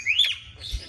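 A pet mynah gives a single short rising whistle-like chirp, close and fairly loud, followed by a faint softer note over quiet room noise.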